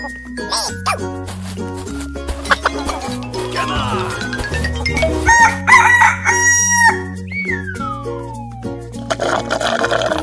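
A rooster crows loudly and clearly amid bright, playful cartoon-style music and tinkling effects, the call rising and falling once over a busy animated background.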